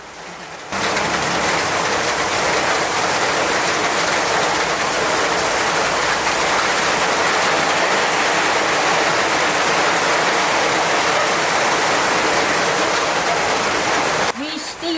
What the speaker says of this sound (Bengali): বৃষ্টি হইতে লাগছে